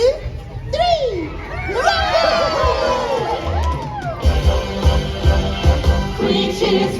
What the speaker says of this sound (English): After 3, let's all cheer for our hero, Robin Hood.